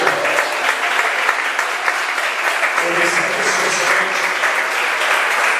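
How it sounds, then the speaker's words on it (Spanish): Loud, dense applause from a church congregation during a Spanish-language Christian sermon, continuous clapping that fills the space, with faint voices mixed in. "Dale un buen aplauso al Rey del Cielo."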